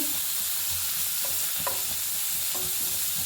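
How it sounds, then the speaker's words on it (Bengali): Garlic frying in a pan with steady, dense sizzling throughout, broken by a few light stirring scrapes and clinks; close and continuous, no talking. "এবার আমি কিছু রসুন ভেজে নিচ্ছি"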